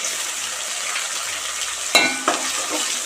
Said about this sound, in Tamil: இப்போது அரைச்சி வச்சுருக்கிற வெங்காய பேஸ்ட் வந்து இதோட சேர்த்துக்கலாம்